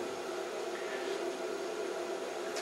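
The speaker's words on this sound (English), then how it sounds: "that's the fan on the power supply just kicking in" A power supply cooling fan for an SSB radio setup runs with a steady, even whir and airy hiss, constant and fairly quiet, close by, with no speech.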